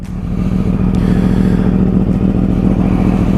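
A 2013 Yamaha R1 motorcycle with a lithium battery fires up and settles into a loud, steady, close-up idle rumble with a fast even pulse, no throttle applied.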